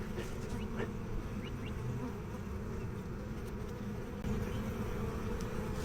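Honey bees from an opened hive drone steadily and closely throughout a garden inspection, a dense continuous buzz with individual bees passing near.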